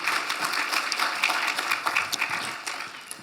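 Audience clapping during a university lecture, a scattered mix of hands with individual claps standing out, steady for a few seconds at moderate volume without speech.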